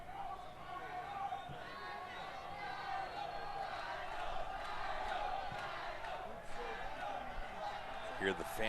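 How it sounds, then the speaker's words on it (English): Football fans at a Suriname vs Grenada Concacaf Nations League night match produce a sustained stadium crowd roar with chanting and cheering beneath steady commentary. "Here the fans getting more engaged as this night goes along. They've been cheering all evening"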